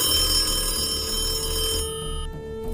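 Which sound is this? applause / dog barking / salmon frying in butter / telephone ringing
telephone ringing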